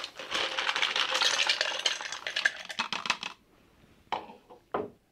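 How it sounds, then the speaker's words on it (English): Ice cubes are tumbled into a mixing glass for a Sazerac cocktail, a dense rattle of clinking and clattering for a few seconds, followed by two sharp separate knocks after a short pause. "We're going to start with a mixing glass, add some ice."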